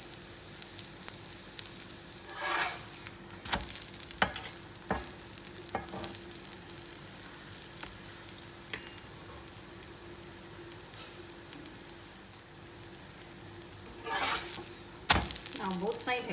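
An aloo paratha cooks in ghee on a pan, giving a soft, continuous sizzle broken by sharp spatula scrapes and pressing clatters, plus a louder burst of frying near the end, close by with no talking.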